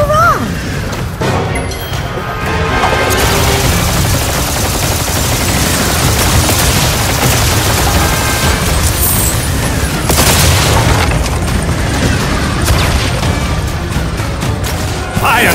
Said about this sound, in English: If we can get to that cannon, we can launch ourselves over to the castle.